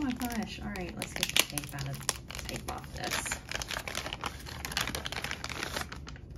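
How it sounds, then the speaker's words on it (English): Packing tape being peeled and torn off a Polaroid Go instant camera box, close up, with crinkling and ripping bursts running throughout and a voice talking over it. "let's get the tape off this"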